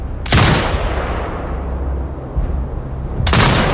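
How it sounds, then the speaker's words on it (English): A turret fires in the video game Sniper Ghost Warrior Contracts 2, two loud, heavy gunshot blasts several seconds apart, each trailing off into a long low rumbling echo. "Exit binocular mode and command the turret to fire."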